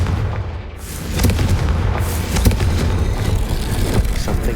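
A Confringo fire spell blasts in Hogwarts Legacy, a loud booming explosion followed by a sustained rumbling roar, with sharp crackling impacts recurring through the burst and no speech.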